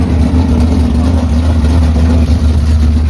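A modified race car roars past on an oval speedway at a weekly racing night, a loud, sustained low engine drone filling the whole moment with no pause.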